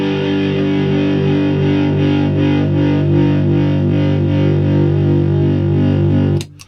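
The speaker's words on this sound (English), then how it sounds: "Now when you add distortion to that, or overdrive, whichever one you have," A sustained, heavily distorted electric guitar power chord rings out loud and steady for several seconds, then is cut off abruptly with a brief scrape.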